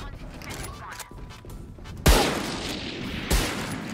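Gunfire from Jett's weapon in the video game Valorant: two sharp, loud shots about a second apart stand out over a busy background of game noise.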